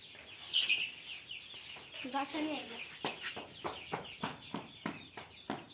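Repeated soft clucking and chirpy calls from baby chickens, close by, in a steady rhythm of short bursts.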